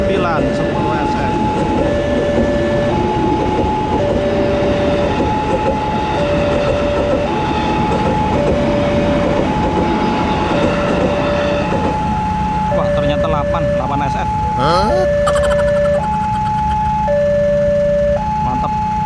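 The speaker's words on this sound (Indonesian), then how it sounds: "Nah, kereta berangkat." A train pulls away past a railway level crossing, its rumble and wheel clatter steady and loud while the crossing's alternating warning bell tones ring throughout, with a voice talking over it.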